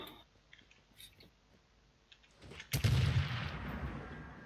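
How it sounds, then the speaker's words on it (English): A gunshot in the battle-royale video game Rules of Survival: quiet ticking and faint sounds, then one sudden loud blast that rings and decays slowly over the last couple of seconds. "Stop shooting."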